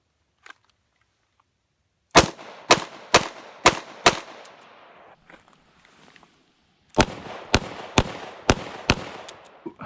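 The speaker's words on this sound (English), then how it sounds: "So let's try number 6 shot here at 5 yards from the holster" A Taurus Public Defender revolver fires number 6 shot shells in double action from the holster at 5 yards. Two rapid strings of five sharp, loud reports ring out, separated by a short pause.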